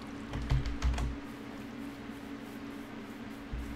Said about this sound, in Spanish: Espero que ya no les moleste tanto el teclado, chicos.